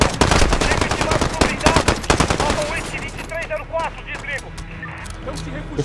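Rapid bursts of automatic gunfire from a weak gun in Call of Duty Modern Warfare, loud and close, thinning into sparse shots and in-game effects as someone talks over it.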